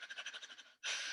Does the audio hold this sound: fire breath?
yes